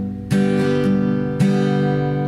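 Acoustic guitar strummed in a slow beginner pattern for Red Is The Rose, with two clear strum attacks a second apart ringing out loud and alone, no voice over it.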